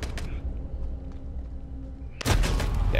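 An M4A1 rifle in the Modern Warfare video game fires a single loud, sharp shot near the end, after a stretch of quiet game ambience.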